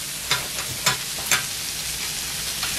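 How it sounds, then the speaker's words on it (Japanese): Pork stir-frying in a pan for quick fried rice, a steady hiss of sizzling oil broken by several sharp scraping strokes of a spatula; close and continuous, no talking. "これ僕は豚を炒めていきます"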